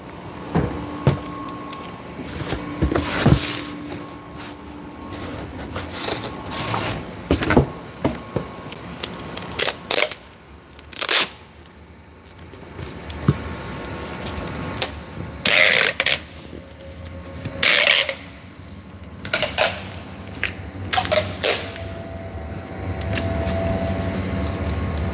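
An office printer runs a two-copy job with repeated mechanical whirs, clicks and ratcheting paper-feed bursts, fairly close and loud, with short pauses between passes.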